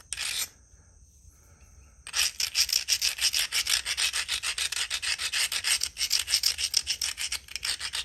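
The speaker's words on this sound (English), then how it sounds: "Just grind it real good." A Georgetown flint slab's edge is ground with a hand tool, a quick rhythmic rasping scrape, one short stroke, a pause, then a steady run of close, fast back-and-forth rubbing strokes.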